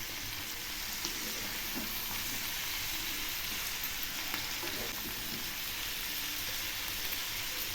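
Vegetables seasoned with salt and turmeric fry in a pan over low heat for mourola fish bhaji chorchori, a steady dense sizzle with faint occasional stirring scrapes, close and continuous, with no talking.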